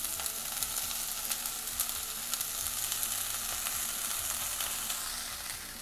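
Mustard greens fry in a pan with a constant bright sizzle, while a utensil scrapes and stirs through them now and then, close and unaccompanied by speech.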